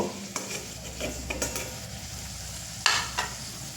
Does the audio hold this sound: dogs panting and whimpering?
no